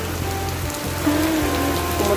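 Heavy rain pours steadily onto a seaside promenade on a wet morning, a dense, close hiss of drops on pavement and an umbrella with no voices.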